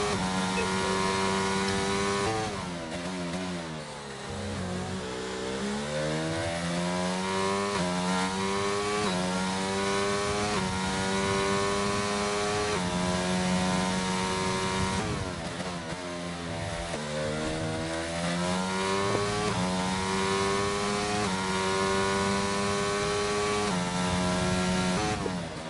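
Steady mechanical engine drone with rising and falling revving sweeps, continuous and fairly loud, fitting cars on a racing circuit during a live commentary session.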